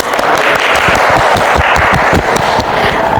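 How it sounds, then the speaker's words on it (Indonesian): Classroom applause from students at the end of a chemistry lesson, loud, close clapping with sharp individual claps standing out in the crowd sound, sustained throughout. "Tepuk tangan untuk kita semua ya"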